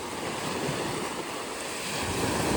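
Sea waves wash onto a beach on Havelock Island in a continuous surf roar with gusty wind noise, swelling slightly toward the end.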